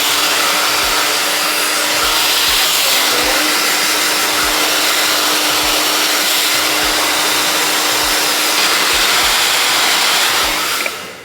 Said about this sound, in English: We're just gonna pull our curls and blow dry the root.